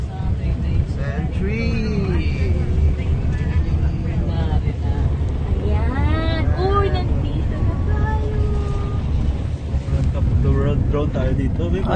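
Strong wind buffets the microphone while riding on the road from Legazpi toward the Mayon rest house, a constant loud rumble with people talking over it throughout.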